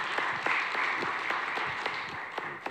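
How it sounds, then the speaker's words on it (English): An audience gives panelists a short round of applause after a session on disability access, a soft, steady patter of many hands with a few distinct claps, somewhat distant. "Can we give our panelists a nice little round of applause?"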